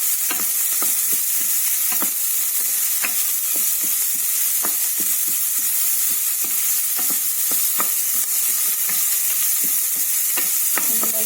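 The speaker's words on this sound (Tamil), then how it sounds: "லைட்டாக வதக்கினா போதும்" Green beans sautéing and being stirred in a hot pan with cumin, a steady sizzle broken by frequent scraping stirs throughout, close and clear with no talking.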